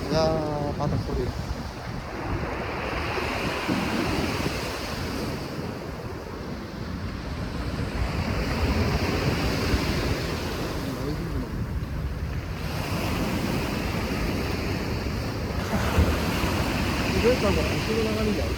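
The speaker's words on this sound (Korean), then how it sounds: "바다 소리" Sea waves washing onto the shore at Jungri in Yeongdo, Busan, with swells of surf rising and falling every few seconds under steady wind buffeting the microphone.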